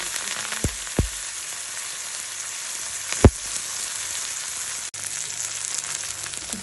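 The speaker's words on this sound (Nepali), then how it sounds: "अब म यसमा राख्दैछु जिरा र खुर्सानी" Cumin seeds and dried chillies dropped into hot oil, a close, loud crackling sizzle with a few sharp pops and spits.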